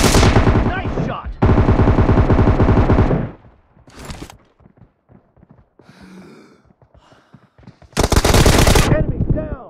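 Assault rifle fire in PUBG Mobile team deathmatch, loud sustained automatic bursts at the start and again near the end, with quieter scattered shots and brief game sounds in between.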